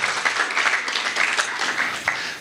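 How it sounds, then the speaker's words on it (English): A live audience applauds after a presenter's talk on cryptocurrency payments, producing a dense, steady wash of clapping with scattered sharper claps throughout this short stretch. "Okay, round of applause for Carolina."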